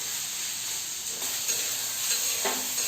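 Tomato frying in oil for a chutney tadka, a soft continuous sizzle and hiss with faint stirring scrapes, fairly quiet and uninterrupted.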